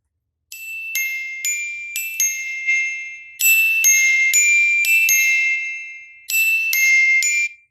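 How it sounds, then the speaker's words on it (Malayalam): A Coca-Cola edition Realme phone plays its ringtone, a bright, chiming melody of ding-like notes in three phrases separated by short gaps. It sounds close and clear, with no talk. "ഈ നോട്ടിഫിക്കേഷൻസും പിന്നെ റിംഗർ സൗണ്ട് ഉണ്ടല്ലോ, yes, sound and vibration, ring tone"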